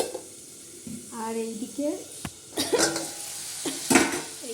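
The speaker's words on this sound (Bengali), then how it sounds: "শিম আলু ভাজা বসিয়ে দিয়েছি" Flat beans and potatoes frying in a pan, a soft sizzle broken by sharp clinks and scrapes of a utensil against the pan while someone talks briefly nearby.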